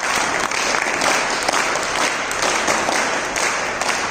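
Audience at a gurukul gathering in Malakpet, Hyderabad, clapping in steady, dense applause throughout, loud and continuous with a faint murmur of voices underneath.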